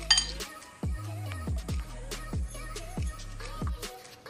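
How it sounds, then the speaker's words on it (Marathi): Ice cubes clinking and knocking into a glass mixer-grinder jar, about seven sharp ringing clinks in a fairly steady rhythm. "चला आता हा बर्फाचे खडे टाकूया आणि मिक्सरला लावून घेऊया"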